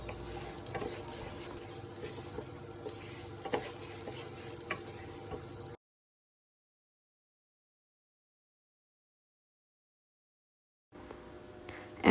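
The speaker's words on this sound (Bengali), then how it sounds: "এখানে আমি 2 কাপ পোলাও চাল নিয়েছি। এটাকে এখন ভালো করে ভাজবো।" Polao rice fries and is stirred in a pan, giving a soft, steady sizzle with light scraping of the spatula, close and quiet, cut off by a stretch of complete silence before resuming briefly.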